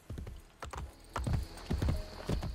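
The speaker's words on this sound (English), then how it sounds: "Galloping on my horse." Horse hooves galloping in a quick, rhythmic clip-clop that grows louder, with no voices over it, in the video game Assassin's Creed Brotherhood.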